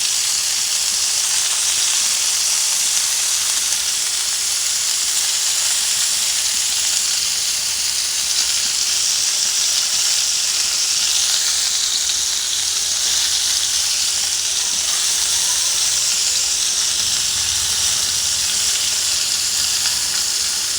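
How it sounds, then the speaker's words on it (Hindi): Muthi kebabs fry in a little oil with a steady, bright sizzle and hiss that holds without a break, close and fairly loud. "कम ऑयल में देखें कितने अच्छे फ्राई हो रहे हैं।"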